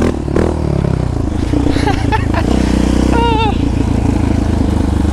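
Yamaha Raptor 700 ATV pulling a wheelie, its engine droning loud and close with rising revs and mechanical clatter, while a person talks and exclaims over it.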